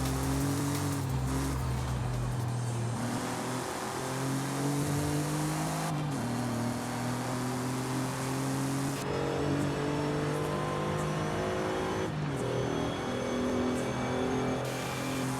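A car's engine in the racing game Forza Horizon 5 revs and shifts through gears, rising tones dropping at each change, loud and continuous with occasional tire noise.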